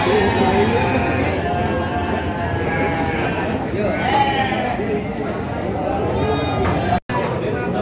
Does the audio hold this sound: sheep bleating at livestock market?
yes